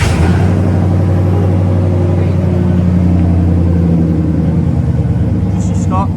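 A stock 350 engine in an OBS Chevy truck runs with a loud, close, steady low rumble and a throaty idle, with a brief voice near the end.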